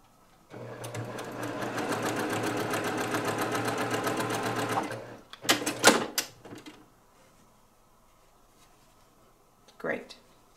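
A sewing machine runs steadily for about five seconds, stitching a quilt seam for a pinwheel block, then stops with a few short clattering bursts and a brief voice near the end.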